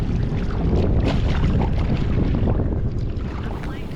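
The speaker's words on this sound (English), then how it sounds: "The wind seems to be easing off a bit now." Wind gusts across Lake Mulwala around a kayak out trolling for Murray cod, a loud steady rush buffeting the microphone with faint water lapping beneath, easing slightly toward the end.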